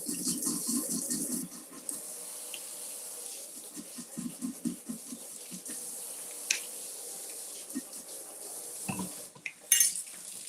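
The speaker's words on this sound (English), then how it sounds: "So let me rinse this off." A kitchen utensil rinsed under a running tap while making a sugar-free, dairy-free, gluten-free yogurt cake, with a steady hiss of water, clinks of metal against a sink or bowl, and a sharper clatter near the end.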